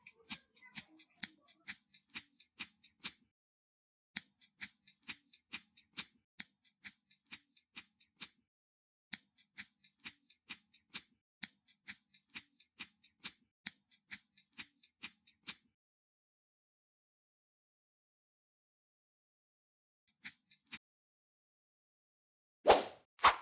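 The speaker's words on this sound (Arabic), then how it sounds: "بعد كده هقص الزيادة اللي حواليها بالمقص" Scissors snip excess craft foam in short bursts of crisp cuts, several quick snips per burst with brief pauses, close and alone; after a gap, a few last snips and a soft thump.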